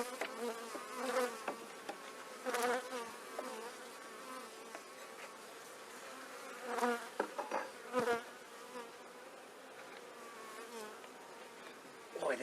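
Honeybees buzz during a beehive inspection, with several close, wavering buzzes swelling and fading as individual bees fly past, over a faint background hum, with no speech.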